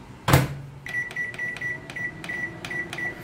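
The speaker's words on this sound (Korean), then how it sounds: "제가 뚜껑을 이렇게 덮고 전자레인지 돌려보겠습니다." A microwave oven runs while steaming cut sweet potatoes with a little water in a covered microwave steamer, starting with a sharp knock followed by a steady hum and a regular series of short, clicking pulses close by.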